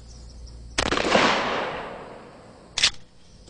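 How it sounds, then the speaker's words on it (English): A shotgun fires number 9 birdshot at soft body armor: one sharp, loud blast with a long decaying tail, followed about two seconds later by a second, shorter burst of noise. "We try it first with number 9 birdshot."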